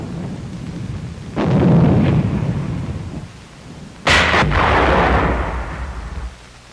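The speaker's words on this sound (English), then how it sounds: "81mm mortar crews supporting the infantry early in February during the elimination of the German salient" 81mm mortar fire from World War II crews supporting infantry in February near Agno: two heavy booming blasts about three seconds apart, each with a rumbling decay, on an old newsreel soundtrack without talk.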